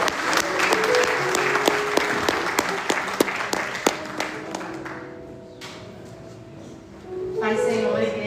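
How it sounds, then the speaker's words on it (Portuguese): Church congregation applauding at a Portuguese-language service, with scattered crisp claps over a crowd wash that fades after a few seconds while a voice speaks and sustained instrument tones linger underneath. "Você pode aplaudir o Senhor para ele?"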